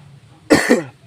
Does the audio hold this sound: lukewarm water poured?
no